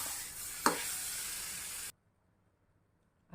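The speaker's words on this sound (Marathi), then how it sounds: "यात आपण घालून घेऊयात आंब्याचा पल्प आणि हे सारण चांगलं वाफून घेऊया" Mango pulp and dissolved sugar filling for aamba poli cooks and is stirred in a pan, giving close sizzling with a sharp scrape of the spoon before it cuts to near silence.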